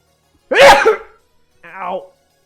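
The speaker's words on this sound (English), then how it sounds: "Oh, I gotta sneeze." A man lets out a loud, sharp sneeze close up, followed after a pause by a shorter voiced groan.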